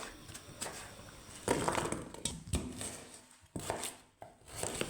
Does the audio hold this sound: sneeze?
no